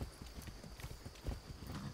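Steady clip-clop of horse hooves at a brisk trot in the video game Far Cry 6, close and fairly quiet, with a few heavier thuds and no talking.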